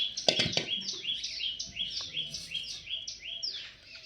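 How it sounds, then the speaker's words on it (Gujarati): Several parrots perched on a bridge give a steady run of bright, repeated chirps and squawks, fairly close; a couple of sharp knocks sound near the start. "પુલ ઉપર થોડા પોપટ આવ્યા"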